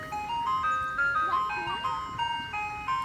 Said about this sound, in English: slowest ice cream truck.